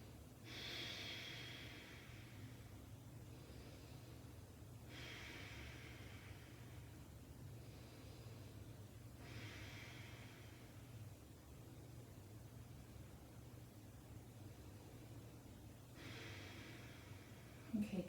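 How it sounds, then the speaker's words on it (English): Deep, slow breaths during a yoga flow, with soft airy inhales and exhales recurring roughly every four seconds, quiet and close against a faint steady background. "Breathing deeply."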